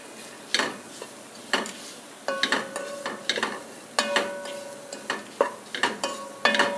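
Carrots and beans being stirred into mint rice in a pan, with repeated scraping and clinking strokes of a spoon against metal in an irregular rhythm under a faint sizzle.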